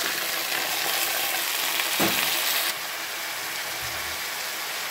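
Bean pieces fry in a pan with golden onions and mustard seeds, a dense, steady sizzle heard close up, briefly louder as they are stirred, then settling to a slightly softer, continuous hiss.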